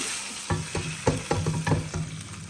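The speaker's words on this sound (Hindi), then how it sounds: "जबरदस्त था तड़का ये।" Hot oil sizzles under a spice tempering for salted moong dal, with a steady frying hiss and a series of clattering stirs against the pan at close range, no voices.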